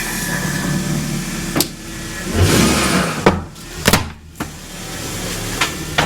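A truck rolls over a tackle box, giving a few sharp cracks and snaps against a low engine hum and faint creaking.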